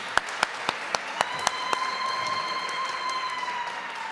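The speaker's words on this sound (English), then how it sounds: "One more round of applause, please." An audience at a university lecture and memorandum signing ceremony gives a short round of applause after a musical performance, about seven sharp, evenly paced claps that stop, leaving a sustained ringing tone behind.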